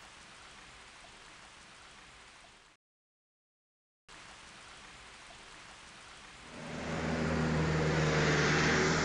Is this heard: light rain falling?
yes